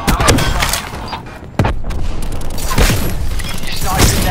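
Heavy gunfire and booming explosions from a Call of Duty Black Ops 4 match accompany the destruction of a sniper's nest. Sharp shots and thuds crowd a dense battle soundscape, with a voice speaking over it.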